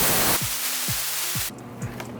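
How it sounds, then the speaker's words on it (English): Steady aerosol glue spraying onto laminate hisses loudly, pausing briefly with soft knocks in between, then stops abruptly with quieter rustling afterward. "Now we'll spray the laminate."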